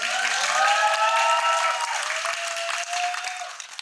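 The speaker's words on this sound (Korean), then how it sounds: "박수 한번 부탁드릴게요" Audience at a film screening Q&A gives a loud, sustained round of applause, with a voice briefly heard over the clapping.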